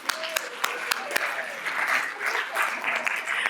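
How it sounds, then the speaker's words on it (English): Convocation audience claps for honorees, starting with a few sharp individual claps, then swelling into broad applause mixed with crowd voices. "Let's give them a round of applause for Terry and Brian."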